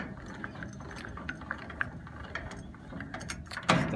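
A trailer jack being cranked down, giving a close, continuous run of small ratcheting gear clicks and mechanical ticking, ending in a louder clunk near the end, with no talk.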